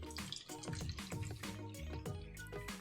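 Smartwater Support bottled water poured into a glass, a continuous close splashing trickle with bubbly drips throughout, moderately quiet.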